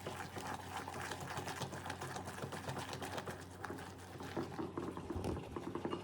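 Pumpkin bread batter being mixed, a steady whirring, wet churning texture with dense rhythmic pulses that runs continuously and fairly close throughout.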